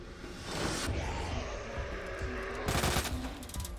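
Rapid gunfire fills Resident Evil 2: Ghost Survivors, with bursts of loud, close automatic shots rattling continuously and a fresh volley near the end.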